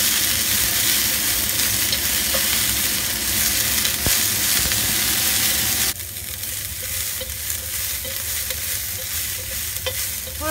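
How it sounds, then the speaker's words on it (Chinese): Water spinach and garlic being stir-fried in a wok, giving a steady loud sizzle with scraping, stirring clatter throughout; the frying noise drops slightly in level partway through but continues alone with no talking. "慢慢將佢炒，炒到佢開始軟身同埋變色。"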